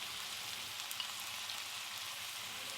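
Boiled raw jackfruit pieces with cumin and coriander powder frying in a pan on a low flame for a Northeast Indian curry, giving a steady, soft, even sizzle with faint scraping ticks.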